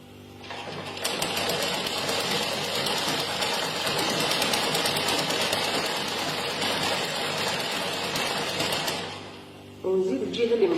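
A sewing machine stitching velvet fabric runs in one steady, dense whirring stretch of about eight seconds, close and prominent, then stops, followed by a brief louder handling or voice-like noise.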